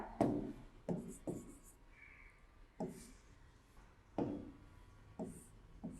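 Hand-writing of Hindi letters, probably marker or pen on a board: soft scratchy strokes and taps come in irregular bursts, quiet and close, with no talking.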